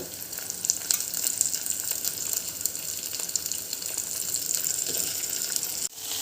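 Green beans sizzle with onions in a pan for a Kerala-style mezhukkupuratti, a steady close frying hiss that runs throughout with a brief dip near the end.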